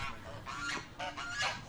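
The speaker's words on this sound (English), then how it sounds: "And these geese are angry geese." Angry geese honk in several loud, close calls that rise and fall and overlap each other, with no talking over them.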